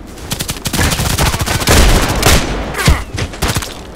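Rapid machine gun fire in the online shooter Contract Wars, dense overlapping bursts with a heavier boom near the middle, loud and close throughout with no talking.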